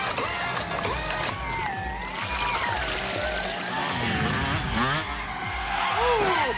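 Animated go-karts race and overtake, engines whining with rising and falling pitch sweeps alongside tire squeals and busy cartoon sound effects, loud and continuous.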